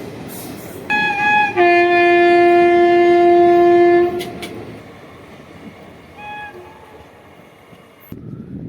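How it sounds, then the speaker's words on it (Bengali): The Rupasi Bangla Express to Purulia sounds its horn in a long sustained blast with rail noise around it, departing Bishnupur station, followed by a shorter, fainter toot as it moves away. "বিষ্ণুপুর রেল স্টেশনে পুরুলিয়া রূপসী বাংলা এক্সপ্রেস ছেড়ে গেল"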